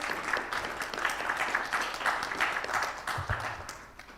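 Audience applause at a fintech forum as a speaker is called to the stage, a steady wash of many hands clapping at moderate distance, tapering slightly near the end.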